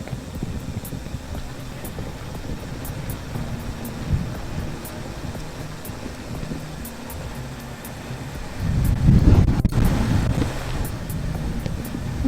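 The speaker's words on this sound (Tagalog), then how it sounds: "Lakas ng hangin." Strong wind gusts buffet the microphone at the Kabayunan view deck on a cycling trip, a steady rushing roar that swells louder near the end, with no talk.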